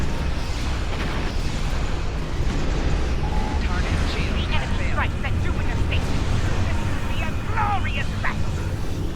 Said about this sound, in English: these things should explode and do damage